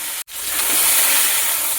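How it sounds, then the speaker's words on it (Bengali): Mixed vegetables fry in a pan before spinach and cabbage go in, giving a steady, close, broadband sizzling hiss that drops out for a brief moment and then resumes evenly. "ওগুলো ভাজা হয়ে এসেছে, আর একটু বাকি আছে।"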